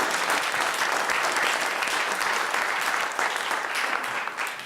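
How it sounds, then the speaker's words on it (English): An audience at a statehood commission kickoff event applauds in steady, dense clapping that fades slightly toward the end. "I heard somebody wanting to applaud there."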